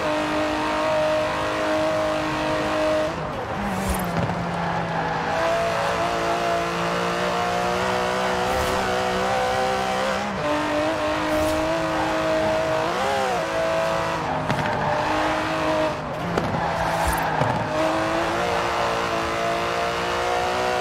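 An Aston Martin DB11 engine in Forza Horizon 4 drones steadily and loudly throughout, with pitch shifts as it revs and changes gear, and occasional brief tire noise, with no voices.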